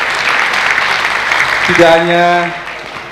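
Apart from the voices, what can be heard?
audience applause for Marhaban Saman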